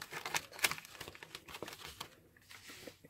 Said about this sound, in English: So I'm just going to come in here and cut up to there